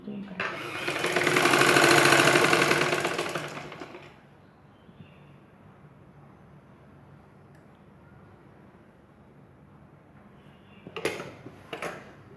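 A sewing machine stitches a blouse in one loud, steady run of about four seconds, then stops, leaving a quiet room with a few soft clicks near the end.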